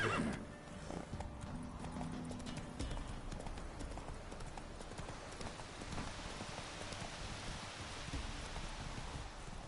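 The horse Roach trots along in The Witcher 3, hooves clip-clopping steadily under a continuous wash of rain, with a brief whinny and a short spoken line near the start.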